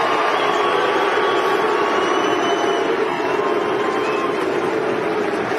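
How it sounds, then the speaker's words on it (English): Tennis crowd at a Kyrgios match making a drawn-out Ronaldo-style chant, heard as a loud continuous roar of many voices with little variation. "Kyrgios and the commentators were a bit confused by a noise that the crowd kept making"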